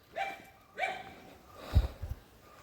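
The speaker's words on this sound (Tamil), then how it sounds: "எப்பவுமே நாயெல்லாம் குலைக்காது, இந்த இடம் நாய் குலைக்க ஆரம்பிக்குது" In a forest tribal village, a dog gives two clear barks followed by a softer, lower yip, faint and somewhat distant.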